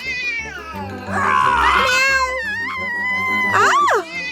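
A cartoon character's voice imitates a cat, letting out drawn-out, wavering meows and a rising, yowling cry, loud and close.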